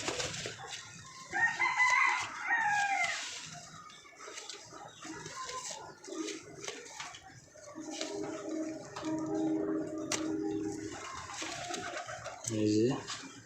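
Pigeons coo in soft, repeated low calls alongside other birds that sound like a rooster crowing, while people talk intermittently.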